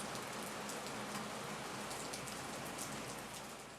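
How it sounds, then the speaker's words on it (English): Steady rain falls and patters on surfaces outside, a soft, even hiss of drops with faint scattered taps that continues unbroken throughout and dips slightly toward the end. "The rain that falls outside your window today"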